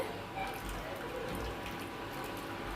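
Hot water is poured into a mixer jar to make coconut milk, giving a short, steady splashing stream, close and moderately quiet.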